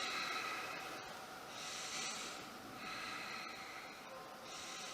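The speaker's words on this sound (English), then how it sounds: "Deep breaths." Slow, deep breaths are drawn in and pushed out during a seated yoga exercise for seniors, faint airy inhales and exhales alternating in an even rhythm about every second or so.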